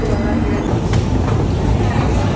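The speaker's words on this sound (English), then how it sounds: "There we are on the Underground, and we've arrived at Euston." A London Underground train at Euston station, heard as a loud, close, continuous rumble and roar of the carriages with steady rail noise throughout.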